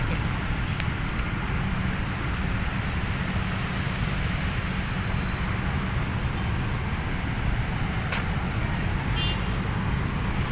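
Road traffic beside the Manila Bay baywalk makes a constant dense roadway noise with passing vehicles and an occasional short toot, steady and fairly close.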